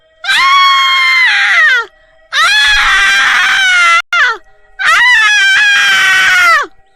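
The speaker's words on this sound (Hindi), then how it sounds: "चुड़ैल जोरों से चिल्लाने लगती है।" A witch lets out loud, shrill screams in a horror story sound effect: three long, wavering wails, each rising and then sliding down, with brief silences between them and no talking.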